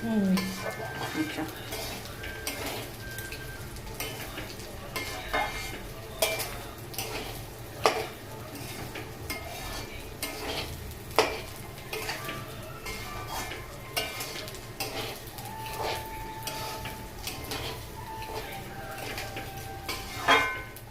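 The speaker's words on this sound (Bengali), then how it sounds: "মানে চালটা ভালো করে ভাজতে হবে" Rice grains stir-fried in a pan for Basanti pulao, with steady scraping and clinking of a spatula against metal, soft sizzling underneath and occasional sharper knocks, fairly close and moderately loud.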